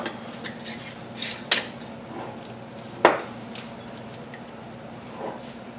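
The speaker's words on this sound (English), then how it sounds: "I'm gonna go ahead and fill up my jar" Dry sauce mix of flour and dried milk being scooped into a jar: a soft, faint rasping rustle with a few sharp clinks, the loudest near the middle, against a low steady hum.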